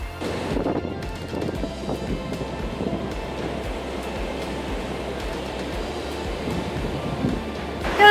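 Waves washing on a beach on a bright day, a steady broad rush of surf mixed with wind buffeting the microphone, continuous and fairly loud, with no voices.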